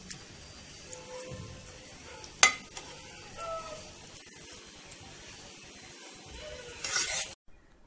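Cooked kidney beans and urad lentils are mashed in a pot for dal makhani, with continuous soft squelching and stirring, one sharp clank of the utensil against the pot, and a brief louder scrape near the end.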